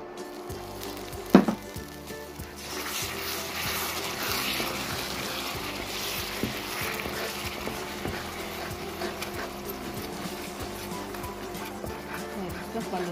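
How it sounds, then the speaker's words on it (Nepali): Water poured into hot melted jaggery with ghee in a pan sets off a broad, steady sizzle after a short sharp splash, continuing at an even level beneath a person talking. "गुड सबै पग्लियो अब म यसमा चाहिँ थोरै पानी हाल्दैछु"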